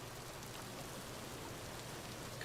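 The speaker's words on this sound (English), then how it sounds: "We're hitting more rain." Steady, dense rainfall in the survival video game Vintage Story, an even hiss of falling rain with no breaks or other sounds.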